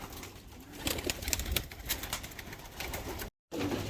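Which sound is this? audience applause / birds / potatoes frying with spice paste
birds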